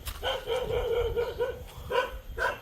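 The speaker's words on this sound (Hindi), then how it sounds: "वो देखो वहाँ से खड़ा हुआ इन दोनों को भौंक रहा है" A dog barks repeatedly at a rooster and hen at a budget resort in Ubud, Bali, with sharp harmonic yaps in quick bursts, close and fairly loud over a low outdoor rumble.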